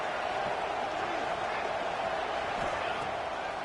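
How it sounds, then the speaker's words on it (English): Stadium crowd noise fills a PS5 football video game, a dense continuous roar of a fired-up crowd with commentary-like voices mixed in. "It's early, but this crowd is fired up. Listen to this noise here."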